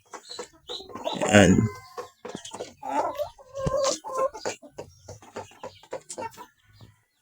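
Hens in a backyard flock cluck in short, irregular bursts close by, one louder cackling call standing out, while a person speaks briefly over them.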